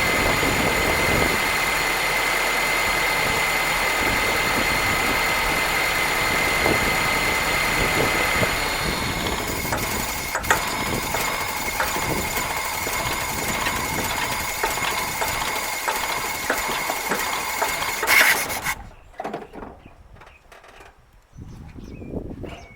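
A small carbureted engine on an old barn-find machine idles steadily with a fast, even putter after carburetor cleaning, then cuts off abruptly near the end, leaving quiet.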